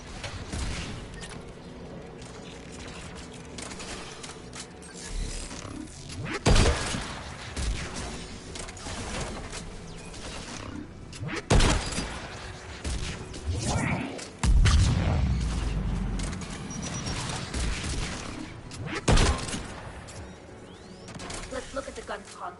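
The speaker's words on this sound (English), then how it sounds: "AA guns ahead of us" Anti-aircraft guns firing in the sci-fi shooter Mass Effect 3: a dull ongoing battle rumble broken by several loud, spaced booming bursts, with voices talking over the action.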